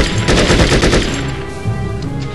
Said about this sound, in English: Maybe not as powerful as my normal gun.